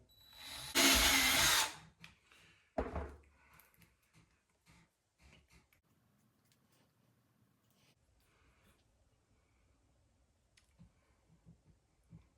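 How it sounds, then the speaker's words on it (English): A loud, brief whir of a power drill with a 5/32-inch bit boring through a pool noodle, lasting about a second, followed by scattered clicks and quiet handling noises. "Then we're just gonna drill it right through the middle."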